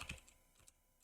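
A few quick keystrokes on a computer keyboard, light close clicks at the start, fading into faint room tone.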